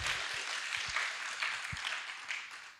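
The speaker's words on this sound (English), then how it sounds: "give her a round of applause here" Applause from an audience at a Cherokee culture and language event: a steady, soft wash of many hands clapping, fairly faint and continuous for a few seconds.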